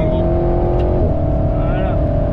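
An Alpine A110S with an aero kit accelerates hard on the Clastres race circuit, its engine droning loud and close from inside the cabin. The tone climbs steadily as it pulls, with a brief dip near the middle.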